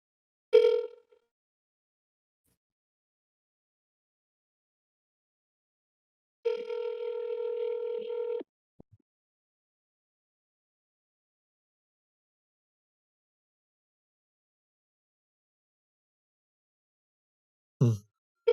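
A telephone ringback tone on an outgoing call: a short burst, a steady tone lasting about two seconds after a long silence, then another brief tone at the end. All three are faint and there is no talking.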